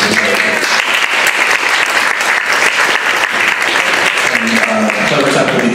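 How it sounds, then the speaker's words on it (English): An audience at a mobile technology meetup in Silicon Valley claps steadily and loudly, a dense sustained burst of applause filling the room. "So give a round of applause to CleverTap,"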